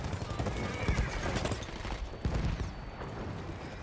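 Horse neighing and hooves clip-clopping amid gunfire in the Battlefield 1 video game, a dense, busy battlefield mix with continuous noise throughout.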